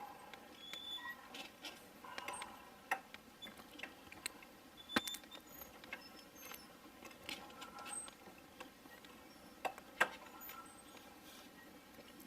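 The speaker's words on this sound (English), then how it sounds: "there's 12 cams, 6 each side, that respond as I turn this." Twelve small cams inside a kaleidoscope mechanism ticking and creaking softly as it is turned, faint scattered clicks close up in a quiet room.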